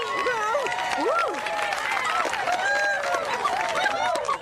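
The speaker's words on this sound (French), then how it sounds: "Vous pouvez vous applaudir!" Theater audience applauding themselves after a premiere, a dense wash of clapping mixed with excited whoops and chatter, steady and fairly loud throughout.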